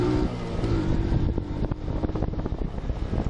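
A Yamaha Libero 110, a four-speed motorcycle, being ridden: steady engine drone mixed with heavy wind buffeting across the microphone, continuous and fairly loud, no talking.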